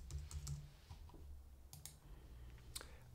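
Soft keyboard typing in a quiet room, a run of light, irregular clicks as random values are entered into prototyping software, fairly faint with a steady low hum underneath.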